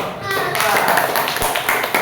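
Quick rhythmic hand clapping in a classroom, with children's voices and some tapping mixed in.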